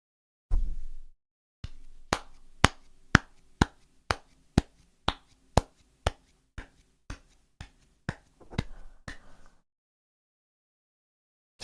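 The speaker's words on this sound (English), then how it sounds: "Just normal clapping, right?" Hand claps recorded as a music sample, about sixteen sharp, close, evenly spaced claps after a short pause, then silence.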